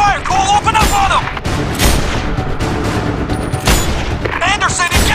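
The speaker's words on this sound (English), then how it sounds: "We're taking fire, Cole, open up on him!" Gunfire in the video game Sniper Ghost Warrior 2, loud bursts and booms of a firefight with shouted voices over the shooting.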